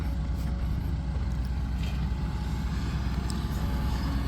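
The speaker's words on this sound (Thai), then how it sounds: "เอารถไถลงไป" A tractor engine runs beside a freshly dug farm pond, giving a steady low, droning rumble at moderate distance with no talk over it.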